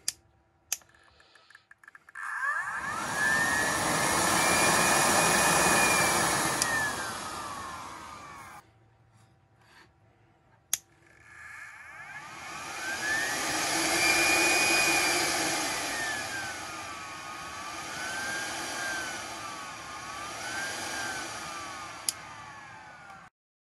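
A Versaflo powered air respirator's blower motor runs in two long stretches, a loud steady whir with a whine that rises and wavers in pitch, separated by a short quiet pause with clicks.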